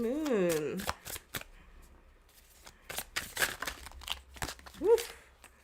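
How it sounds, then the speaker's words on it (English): Tarot cards being shuffled in quick riffling bursts, close up, with a person talking in an animated voice at the start and again near the end. "Let's get this shuffle going again."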